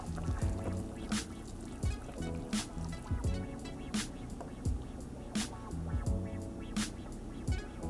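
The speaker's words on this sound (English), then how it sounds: "We're gonna take this mixture that we just made and throw this into the pot." Kare kare sauce mixture is poured and scraped into a pot in a home kitchen, with liquid glugging and spoon clinks recurring in an uneven rhythm over a low background hum, close and quiet.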